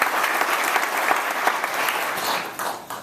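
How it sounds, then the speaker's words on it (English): A short burst of applause from a crowd, with dense, steady clapping that fades slightly at the end. "Let's give them all a round of applause."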